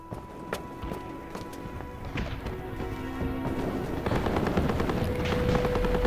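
Artillery shelling in an anti-Japanese war drama: a dense, continuous barrage of booming blasts and crackling detonations that grows steadily louder and more intense, with no voices over it.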